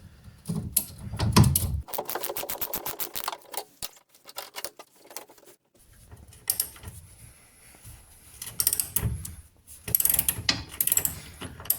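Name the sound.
ratchet undoing leaf spring bolts on a Reliant Kitten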